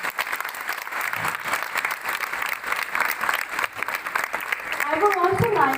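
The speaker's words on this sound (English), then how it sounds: "Let's give them a big round of applause" A crowd at a school mini marathon applauds the NDRF team, steady mid-distance clapping lasting several seconds over outdoor noise, with a voice rising near the end.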